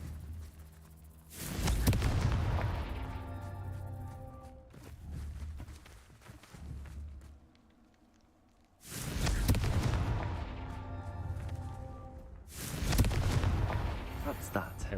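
Spell explosions from the Confringo fire curse in the Hogwarts Legacy video game, several loud booming blasts with rumbling tails spaced a few seconds apart, under a speaking voice.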